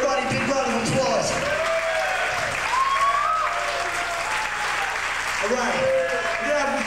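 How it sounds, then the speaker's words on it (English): Crowd at a 1994 Madball hardcore show at Studio One in Newark, New Jersey, applauding and cheering steadily and loudly throughout, with shouts and a few whistles over the sustained clapping. "everybody big round of applause"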